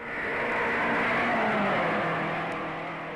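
A race car at the 1955 Indianapolis 500 roars past, its engine note swelling and fading as it sweeps through, loud and continuous for a few seconds.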